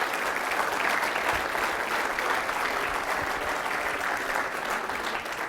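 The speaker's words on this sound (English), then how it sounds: "please give all of our staff people across all of the Institute a big round of applause" Big round of applause from a crowd at an institute all-hands staff meeting, steady dense clapping filling the room throughout without a break.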